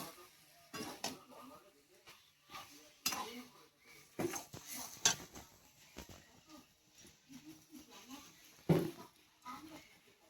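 Cabbage and fried prawns being stirred in a pan, with irregular scraping and metallic clinks of a spatula against the pan, fairly quiet and close.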